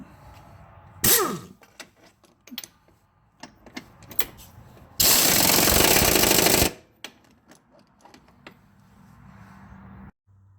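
A power tool tightens the front cradle bolt on a Dodge Grand Caravan, giving one loud, sustained burst of about two seconds in the middle, with scattered clanks and shop clatter before and after.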